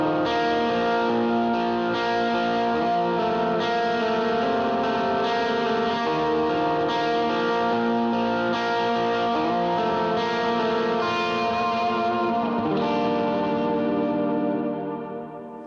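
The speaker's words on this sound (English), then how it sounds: "The effects I'm using is just a simple dotted eighth delay with a bloom reverb on the big sky." An electric guitar plays sustained, swelling chords through a dotted-eighth delay and a Big Sky bloom reverb, with repeats washing into a dense, continuous shimmering pad that fades at the end.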